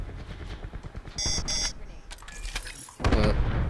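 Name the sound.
enemy Hawk drone spotting alert in Black Ops 4, video game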